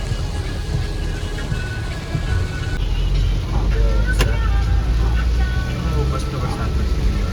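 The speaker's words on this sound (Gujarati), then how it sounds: "મસ્ત વરસાદ વરસી રહ્યો" Heavy monsoon rain pouring steadily outdoors, a dense continuous hiss with a low rumble of passing traffic, and people talking over it.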